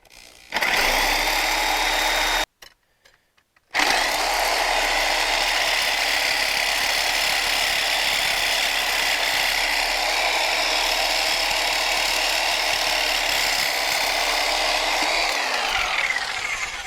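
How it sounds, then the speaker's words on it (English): A Sawzall reciprocating saw with a burned-up blade cuts through a metal part on a 1957 Chevy with a 9-inch Ford rear differential, a loud, close, continuous buzzing drone that stops briefly and then resumes. "Clean off with a Sawzall in a matter of minutes."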